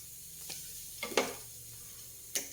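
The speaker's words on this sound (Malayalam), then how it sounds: "ചെറുതീയിലാണ്, സിമ്മിലാണ് വറക്കുന്നത്" Coconut and coriander powder fry gently over a low flame. A faint, quiet sizzle carries a few sparse soft crackles and ticks, and there is no speech.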